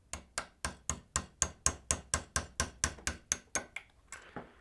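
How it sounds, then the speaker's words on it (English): Overkill hammer tapping a wheel off a Hornby Class 25 model locomotive: about sixteen sharp, evenly spaced close knocks in a steady rhythm, then a brief softer scrape as the taps stop. "my big overkill hammer again"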